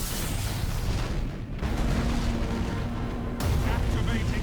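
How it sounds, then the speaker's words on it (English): A spaceship explodes in the Warhammer 40K Gothic Armada space battle game, a dense, rumbling boom that sustains over heavy background battle noise, with someone talking over it. "his health is completely gone now, and he's about to explode"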